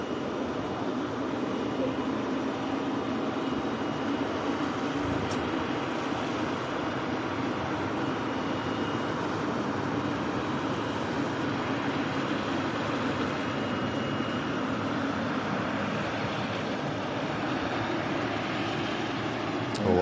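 Etihad Boeing 777 airliner taxiing at Manchester Airport, a steady, continuous jet engine rumble and whine held at moderate distance throughout, with no sharp changes in level.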